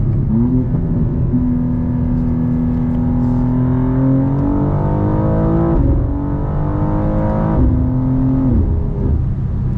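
A 2024 BMW M2 CS with a tuned transmission revs hard and loud, its engine note climbing and then dropping sharply at several gear shifts, with booming downshifts throughout.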